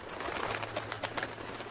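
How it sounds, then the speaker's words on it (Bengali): A cartoon pigeon coos softly in a short repeated call over a steady background hum, with no speech. "একদিন কবুতর আসলো টুনির বাসায়।"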